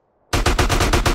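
Rapid automatic gunfire from GTA San Andreas Definitive Edition, a loud burst of about seven evenly spaced shots fired in quick succession after a moment of silence.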